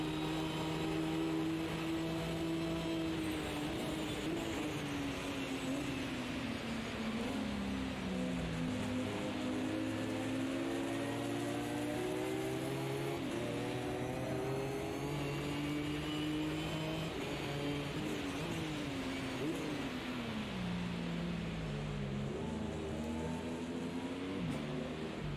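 A Ginetta race car in Automobilista 2 runs a wet lap at Silverstone, its engine droning and rising and falling through the gears, steady and close with no talk.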